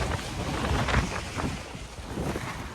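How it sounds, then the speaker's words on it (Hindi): Strong storm wind buffeting a tarp: loud, continuous roaring gusts with rumbling wind noise on the microphone, close and unbroken, no talk. "इतनी तेज हवा चल रही है कि ये मुश्किल है त्रिपाल रोकना।"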